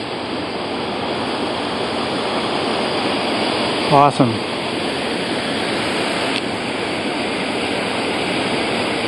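Waterfall with stepped pools in Alaska, a loud constant roar of rushing water filling the whole scene, with a brief spoken word near the middle.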